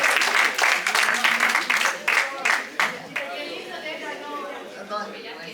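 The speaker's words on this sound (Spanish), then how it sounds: "Un aplauso para todos los autores y editores de esta hermosa obra" An audience applauds the authors and editors of a book at a university ceremony at ESPOL. The clapping is dense at first, then thins and fades after about three seconds as the room settles.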